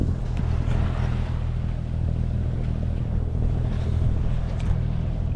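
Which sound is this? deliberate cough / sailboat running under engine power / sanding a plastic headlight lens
sailboat running under engine power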